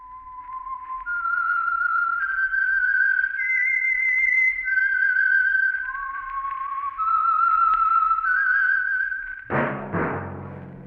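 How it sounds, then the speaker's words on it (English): A lone, clear whistled melody, the theme tune of the radio drama The Whistler, plays as a sequence of sustained notes, then ends with a sudden orchestral chord. "That whistle is your signal for the Signal Oil Program, The Whistler."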